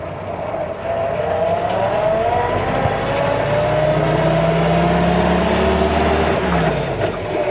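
A 1954 Willys Jeep accelerates in first gear, its engine note climbing steadily as the revs rise. The motor sounds loud and close, with no voices.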